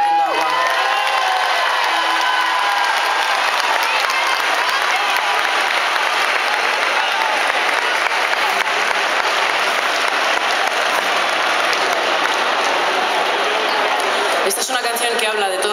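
A large concert crowd at an Amaral show in Toledo applauds and cheers, with dense sustained clapping, whoops and shouting filling the whole stretch loudly and without pause.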